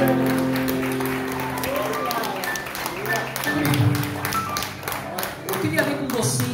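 A church congregation applauds during a missions service, scattered clapping mixed with a low sustained tone and voices, moderately loud, the clapping swelling in the middle.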